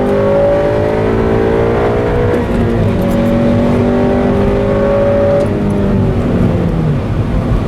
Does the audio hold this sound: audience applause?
no